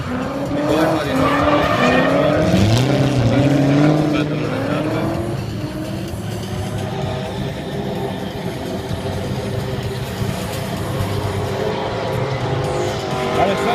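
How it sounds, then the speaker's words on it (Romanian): Race cars, including a V8-powered BMW E30, skid and squeal their tyres on a track while engines roar loudly; pitch-sweeping engine notes dominate early, then sustained tyre squeal and engine noise continue throughout. "Alexander Iazov din Bulgaria, BMW E30, motor V8."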